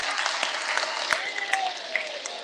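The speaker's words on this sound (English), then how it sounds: "let's give him a round of applause right now before I do my intro." An audience applauds a guest speaker at a school event, steady clapping filling the room without pause, fairly close and moderately loud.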